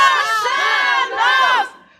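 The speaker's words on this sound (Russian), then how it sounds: "Давайте все кричим!" A protest crowd outside the presidential administration in Nur-Sultan shouts a chant in unison, loud and close, in two long rising calls.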